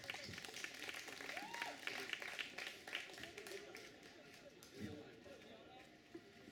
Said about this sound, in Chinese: 那现在我们掌声欢迎各位